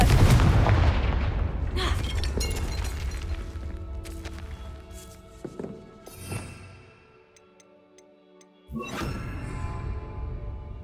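A Confringo fire spell blasts in Hogwarts Legacy: a loud burst opens, followed by crackling impacts and booming hits, then a fainter stretch and another sharp explosive crack near the end.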